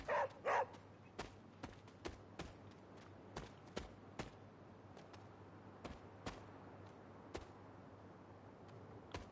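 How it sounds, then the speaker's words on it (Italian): A dog in the video game Marvel's Midnight Suns barks in a few short, loud bursts at the start, then falls quiet while faint clicks and taps tick along over a low steady hum. "Continua ad abbaiare per di qua,"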